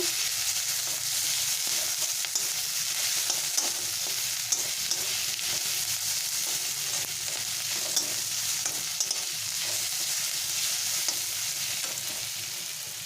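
Garlic frying in a pan for jute-leaf greens, giving a steady, close, even sizzle with occasional stirring scrapes throughout and no talking.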